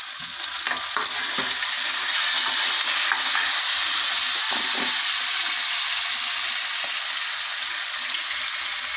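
Onions and tomatoes sauté in hot oil for a chicken curry, a loud steady sizzle with the scrape and clatter of a spoon stirring the pan close by, and no voices.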